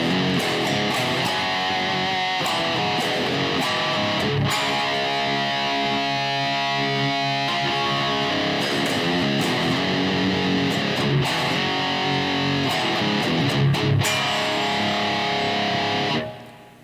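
Electric guitar played through a pedal with its boost switch cranked fully up alongside distortion, a mean, heavily driven tone with sustained chords and riffs filling the stretch at steady volume before stopping near the end.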